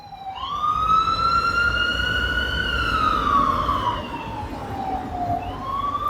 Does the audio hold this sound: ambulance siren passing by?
yes